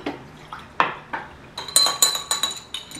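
A spoon clinks and scrapes against a glass while stirring a drink of apple cider vinegar, honey and water, with a series of sharp, close chimes in quick irregular rhythm.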